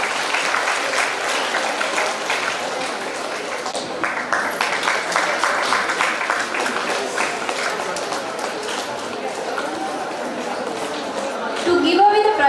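An audience at a college periodontology department's National Periodontist Day event claps in sustained, dense applause that holds steady from start to finish and swells slightly near the end.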